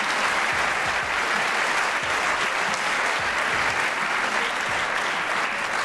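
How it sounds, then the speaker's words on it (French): Steady, dense audience applause at a French inspirational conference, many hands clapping continuously and loudly throughout with no talk over it. "je pense que vous pouvez applaudir"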